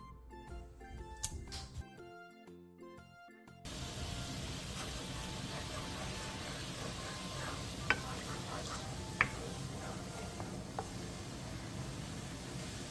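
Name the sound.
soy, oyster sauce and syrup glaze boiling in a dry pan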